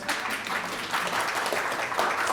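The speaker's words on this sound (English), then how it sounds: "everybody give Jamie a round of applause" A seminar audience claps for Jamie, a steady wash of applause at moderate level throughout, with a faint voice or two mixed in.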